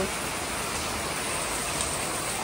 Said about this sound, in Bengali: খুব বৃষ্টি হচ্ছে প্রচণ্ড।